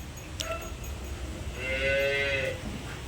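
A cow lets out one long, fairly close moo in the middle of the clip at a Punganur dairy farm, with faint farmyard noise and a brief higher call before it.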